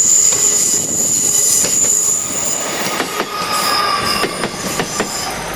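A train on the scenic Kyle line in the West Highlands rolls past close by, its wheels squealing steadily against the rails with faint clicking joints throughout.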